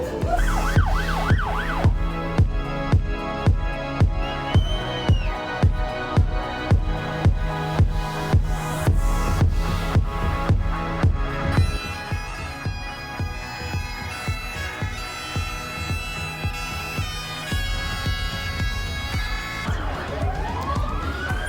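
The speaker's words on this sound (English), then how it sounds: "I hear police sirens." Police sirens wail and yelp outdoors at moderate distance before a St. Patrick's Day practice parade, steady rhythmic pulsing that shifts pattern partway through, with no talking.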